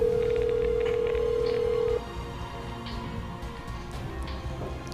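A telephone dial tone holds steady for about two seconds, then cuts off into a quieter line as a number is dialed, with faint clicks and low background noise following.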